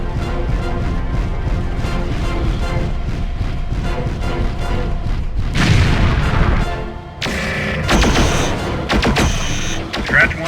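A destroyed missile launcher blows up in MechWarrior 4, heavy booming blasts and crashing debris bursting in loud waves over constant battle rumble, with a voice speaking partway through.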